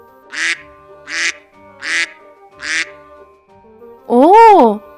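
Four evenly spaced quacks from a nearby duck being fed bread by the water, then a louder, longer warbling call at the end; the sounds ring out clearly against a quiet background.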